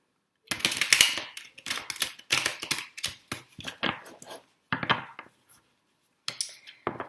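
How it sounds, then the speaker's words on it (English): Crisp, rapid riffling bursts of a tarot card deck being shuffled close up, coming in several quick clusters separated by short pauses. "I like to shuffle while I am recording"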